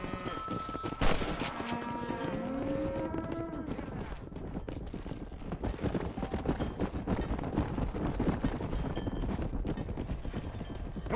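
Horse hooves galloping in the video game Red Dead Redemption, a continuous rapid drumming under gunfire bursts and cowboy shouting, dense and busy all the way through.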